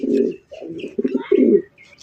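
A large fancy pigeon gives repeated deep throaty coos in three or four close bursts, loud and near, with faint background chatter.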